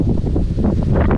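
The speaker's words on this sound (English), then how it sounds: "It's windy." Wind gusts buffet the microphone at a pike fishing spot by a drain, a loud low rumbling roar in uneven bursts lasting about a second, with no talk.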